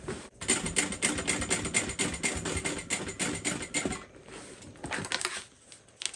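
Sewing machine stitching a handbag, a rapid rattling, typewriter-like needle patter for several seconds that slows and fades into scattered clicks as the fabric is handled.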